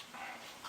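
A dog gives a short, faint whimpering yip, heard once or twice from a little distance over a brief moment.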